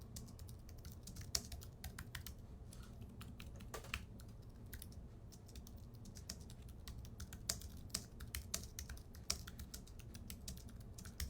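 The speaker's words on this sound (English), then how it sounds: "while I type this out real quick" Quick typing on a computer keyboard, a steady stream of soft close clicks with occasional louder taps over a low background hum, no voices.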